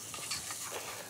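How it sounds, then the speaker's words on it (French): Petit épeautre and buckwheat toasting in a saucepan, a soft, steady sizzle with faint stirring scrapes, quiet and close with no voices. "Et là, il faut que ça chante un peu. Il faut que ça attache un petit peu dans le fond de la casserole."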